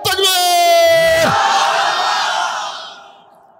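A large congregation at an evening Islamic mahfil shouts the takbir together, starting with a leader's sustained call and swelling into a loud, unified crowd roar that slowly fades.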